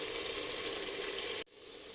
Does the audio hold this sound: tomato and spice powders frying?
yes